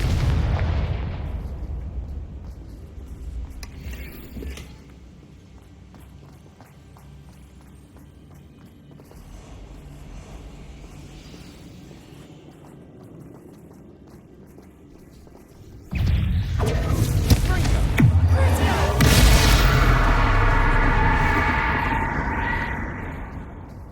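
A Confringo explosive spell blast in Hogwarts Legacy erupts suddenly after a long stretch of quiet game ambience, then becomes a loud, roaring burst with crackling debris that stays heavy until the end.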